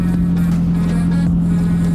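Chevy Cruze Turbo car driving with a steady low engine drone and road rumble heard from inside the cabin, continuous and fairly loud, with no talking.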